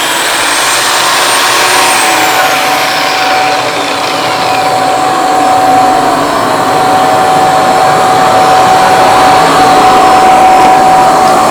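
A cheap, low-end shop vacuum runs together with a drywall sanding giraffe, a steady loud whine with a high tone holding throughout, alone without talk.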